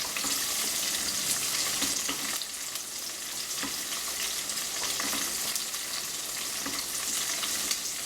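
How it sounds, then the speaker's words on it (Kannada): Green chillies and spices roast together in a pan for North Karnataka hasi khara, giving a steady, dense sizzle with stirring scrapes throughout and no talking. "ಬಟ್ ನಾನು ಇದೇ ಥರ ಬಾಣಲೆಯಲ್ಲಿ ಮಾಡ್ತಾಯಿದ್ದೀನಿ, ಎಲ್ಲ ಒಟ್ಟಿಗೆ ಹಾಕ್ಕೊಂಡು ಹುರಿಬೋದು ಅಂತ"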